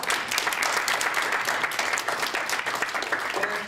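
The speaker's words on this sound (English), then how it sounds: "Round of applause." Workshop attendees at a pitch event break into a round of applause, a dense, lively crowd clapping that stays fairly even and close throughout.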